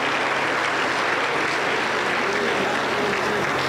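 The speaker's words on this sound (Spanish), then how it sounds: "Un aplauso para el Señor Jesucristo." A church congregation at a Pentecostal service in Junín, Peru breaks into loud, dense applause. The clapping is sustained and even, with no break from start to finish.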